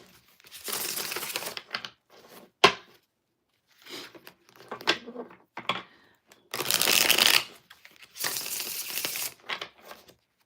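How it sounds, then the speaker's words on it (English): A deck of tarot cards is shuffled by hand in several loud, close bursts of riffling and flapping, separated by short pauses and a few sharp taps. "2 more shuffles."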